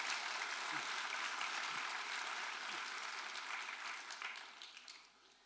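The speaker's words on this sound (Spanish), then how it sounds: "Demos la bienvenida con un fuerte aplauso." An audience in a church claps steadily in a dense, sustained round of applause that gradually fades toward the end.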